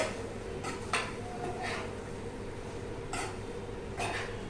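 Shredded cabbage being stirred in a pan over low heat gives a few scattered metallic scrapes and clinks of a spoon against the pan, faint and spaced apart, with no voices.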